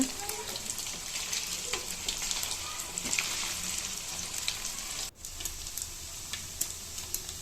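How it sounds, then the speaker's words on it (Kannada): Paneer fries in oil in a kadai with a soft, continuous sizzle and crackle, fairly faint and close, carrying on evenly with only a brief dip. "ಈಗ ಫ್ರೈ ಆಗ್ತಾ ಇದೆ"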